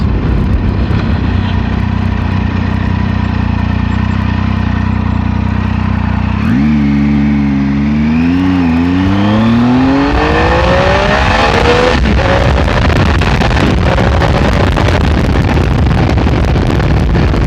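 A 2019 Triumph Tiger 800 XCA motorcycle accelerates hard from 0 to 70, its engine note climbing through a gear change and rising steadily in pitch beneath strong, continuous wind roar.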